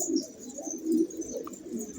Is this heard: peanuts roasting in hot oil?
no